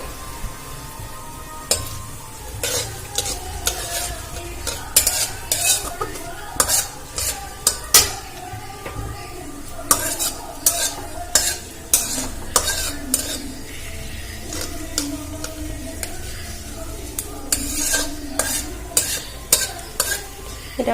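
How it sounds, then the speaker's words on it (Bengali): Steady sizzling of spices frying in a pan, punctuated by repeated sharp scrapes and clinks of a spoon stirring against metal, close and fairly loud. "এবারে নাড়াচাড়া করে ভেজে নেবো"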